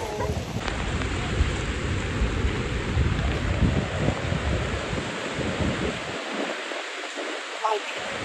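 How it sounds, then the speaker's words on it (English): Heavy pouring rain outdoors in Jamaica, a loud continuous dense roar of rainfall that stays steady throughout. "Y'all, it's pouring rain right now."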